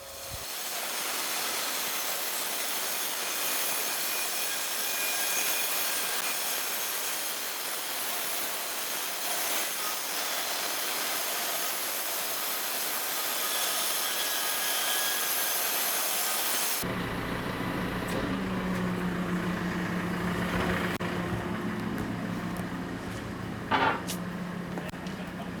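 A sawmill blade cuts through a huge sugar maple log with a continuous loud hissing rasp, then the tone drops and changes to lower machinery rumble near the end.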